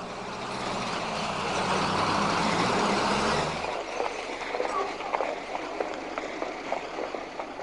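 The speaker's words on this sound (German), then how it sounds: "Ein International School Bus." An International school bus passing Bismarckplatz in Heidelberg, its heavy engine rumble swelling loud and close for a few seconds, then dropping away to quieter street noise with scattered clatter.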